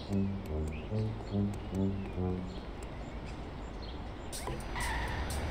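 Cars stuck in a video game traffic jam honk in a repeating pattern of horn blasts, followed by a steady traffic rumble and a brief screech near the end.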